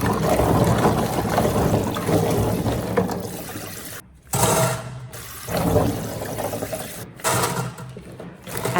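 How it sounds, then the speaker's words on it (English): Running water pours over chestnuts being rinsed, a loud, steady splashing stream broken by a few brief gaps where the flow stops and starts again. "rinse them thoroughly under running water until the chestnuts are shiny"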